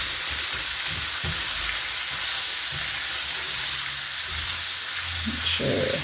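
Small chard or foraged plantain leaves wilting in a hot pan give a steady, close sizzle and hiss, with a few soft clinks and shuffles of movement; no one speaks.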